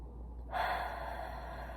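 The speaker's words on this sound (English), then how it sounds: "I'll invite you to start today with a deep breath" One deep breath drawn in through the nose, a short close inhale that starts after a brief silence and fades into a soft, airy exhale.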